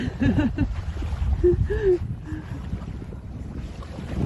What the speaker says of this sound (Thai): โอ้โห ลมแรงลมแรง